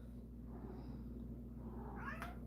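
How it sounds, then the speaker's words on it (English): A house cat meows indoors, quiet and close, with a short high cry near the end over a steady low electrical hum. "Why are you meowing?"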